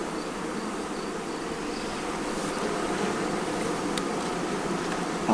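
Honey bees buzz around queen mating boxes in a continuous soft drone, moderately close and steady, with no talking.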